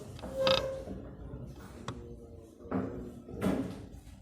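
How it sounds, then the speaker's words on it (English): A door creaks loudly as it swings shut, a drawn-out squeal from the hinges followed by several shorter creaks and a soft knock as it settles, heard close up with no talking. "Close the door."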